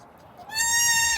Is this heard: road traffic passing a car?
no